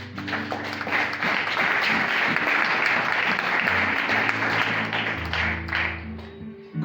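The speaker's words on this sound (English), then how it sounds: "Clap to the Lord." A church congregation gathered at Mpukoni High School claps steadily and loudly throughout, with a sustained low tone or hum running underneath.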